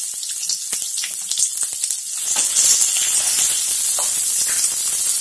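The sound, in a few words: sliced onion sizzling as it is added to the pan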